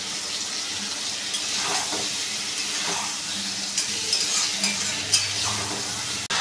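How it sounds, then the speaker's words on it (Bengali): Chicken pieces stir-fried in a masala in a pan give a steady close sizzle with scraping stir strokes throughout, no talking. "এবার ভাজা মাংসগুলো দিয়ে দিচ্ছি, মানে চিকেনগুলো দিয়ে দিচ্ছি।"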